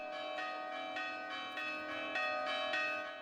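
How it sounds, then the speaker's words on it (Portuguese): A church bell rings in the town of Anchieta, a series of clear resonant strikes about every half second with a sustained humming tone between them, moderately loud and ringing on without talk. "ontem, às 9 da manhã, o sino tocou na cidade de Anchieta."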